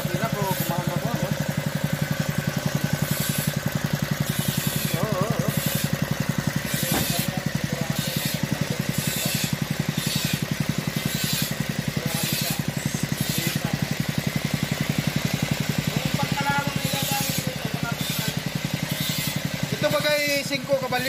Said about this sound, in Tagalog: Andar ng luma na makina, gumana na.